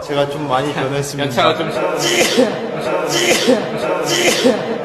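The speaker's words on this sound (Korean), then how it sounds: "여러분, 재채기 한 거야?" A K-pop idol sneezes during a lively group moment, with a few sharp bursts standing out over steady chatter and laughter from several people talking throughout.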